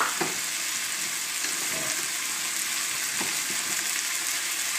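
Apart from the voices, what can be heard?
rice and peas frying and being stirred in a pan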